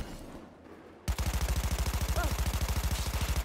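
Rapid automatic gunfire from a gun in the video game Cyberpunk 2077 Phantom Liberty, a fast even burst of sharp shots starting abruptly after a quiet moment and continuing loud to the end.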